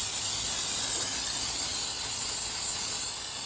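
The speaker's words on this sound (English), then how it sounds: "spray some of this fluid film on this thing just to try to keep it from corroding even more" Aerosol can of Fluid Film sprayed onto the corroded battery area of a John Deere 110 TLB, a loud, continuous close-up hiss held steadily without pause.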